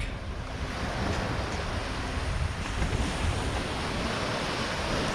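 Ocean surf washing onto sand near rocks on a windy shore, a steady broadband wash with gentle swells and some wind rumble on the microphone, continuous and fairly loud throughout.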